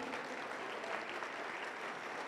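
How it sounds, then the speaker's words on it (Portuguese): A church congregation applauds the Lord in the middle of a Portuguese sermon, producing a sustained, even patter of many hands clapping at a moderate level. "E aplauda ao Senhor por isso, glória!"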